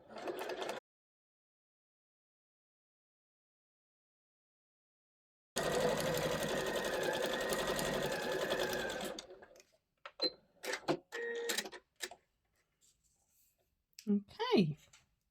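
A sewing machine stitches fabric pieces for a storage caddy at a quarter-inch seam, running steadily for several seconds, then stopping into short stop-start bursts, with some talking near the end.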